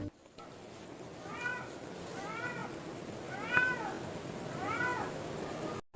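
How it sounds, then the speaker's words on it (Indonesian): A cat in heat yowls in four drawn-out, wavering cries, each rising and falling, spaced evenly against a faint background hiss. "Kucing minta kawin tuh."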